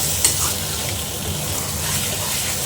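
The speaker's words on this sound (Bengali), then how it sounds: "দিয়ে এবার ভালো করে নাড়াতে হবে।" A chicken mixture with Kashmiri chilli powder being stirred as it fries in a pan, a steady close sizzle with faint scraping, loud and continuous, with no talking.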